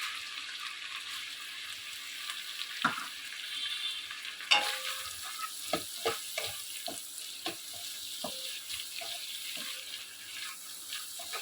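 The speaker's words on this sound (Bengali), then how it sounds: "ওই তেলের মধ্যে আমার যে পেঁয়াজ কুচানো ছিল, পেঁয়াজ কুচি দিলাম কিছুটা।" Chopped onion sizzles steadily in hot oil, a continuous broadband frying hiss punctuated by scattered sharp stirring clicks and spatters, with no talking.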